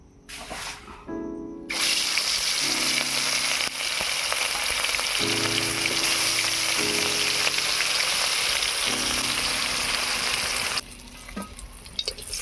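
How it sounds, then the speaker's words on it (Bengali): Catla fish pieces rubbed with salt and turmeric fry in hot mustard oil, a loud, steady, hissing sizzle that starts abruptly after a brief quiet moment and runs continuously before cutting off near the end. "এবারে দিয়ে দেব সরিষার তেল। প্রথমে মাছটা ভেজে নেব।"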